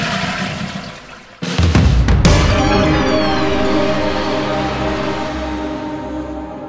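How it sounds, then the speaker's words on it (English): A toilet flushes close by: a sharp clunk of the handle, then a loud rush of water that swirls and drains steadily for several seconds. "Flushing a toilet."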